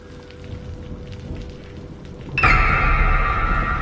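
Steady rain falls on a dark, deserted road, a dense broadband patter that swells abruptly louder partway through and stays heavy after that.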